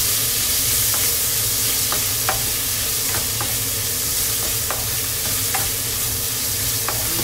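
Chopped onion sautéing in a hot pan for pinakbet, with a loud, steady sizzle throughout and the repeated scrape and clack of a utensil stirring it.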